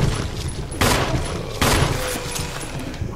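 Gunfire in Resident Evil, with two loud shots about a second apart standing out over a dense, noisy game background that stays steady throughout.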